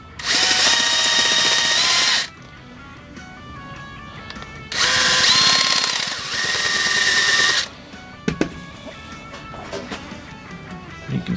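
A power tool countersinks a WW2 fuel petcock fitting, whining loudly in two long bursts with brief pauses, then shorter intermittent grinding touches toward the end.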